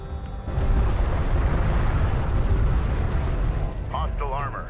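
A turret post explodes in the strategy game Homeworld: Deserts of Kharak, a sustained rumbling blast with crackling debris that fades out. A brief warbling electronic tone follows at the end.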